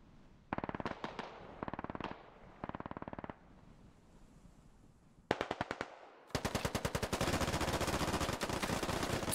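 Rapid bursts of gunfire from the military shooter game Squad, several short automatic volleys then a long sustained stream of shots, loud and close with no talking.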